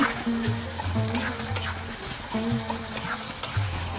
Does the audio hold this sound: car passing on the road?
no